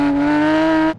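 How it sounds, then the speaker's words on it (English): A Porsche GT3's naturally aspirated flat-six holds a loud, steady, high-pitched wail up close for about a second, then cuts off sharply. "the very, very famous flat 6 engine, no turbos, naturally aspirated, makes an incredible sound"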